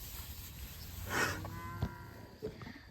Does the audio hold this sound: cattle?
yes